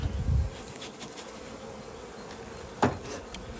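Honeybee colony buzzing during a spring hive inspection, a steady low drone throughout with a brief louder burst near the start and a short sharp knock near the end.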